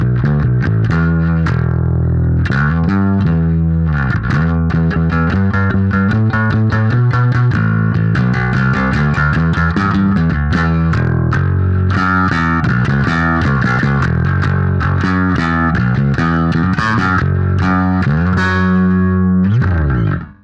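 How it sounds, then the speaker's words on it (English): Electric bass guitar played with a standard working tone, a continuous run of plucked notes and riffs, loud and close with no talking. "So this is just my standard working bass tone."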